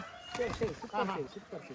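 Roosters at a rooster-fighting event on a farm in Mangalore give a few faint, brief clucks and calls, mixed in with a murmuring crowd and nearby voices.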